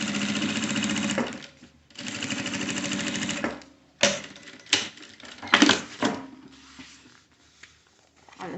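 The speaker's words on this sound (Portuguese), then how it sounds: "e passo aqui uma costurinha de quebra." A sewing machine stitching a pocket lining runs in two long steady buzzing passes, then gives several short stop-start bursts, close and fairly loud.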